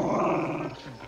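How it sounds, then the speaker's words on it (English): A dog growls low and steadily for about a second in a movie scene, loud and close with no voices over it. "Oh, I think it's just the dog."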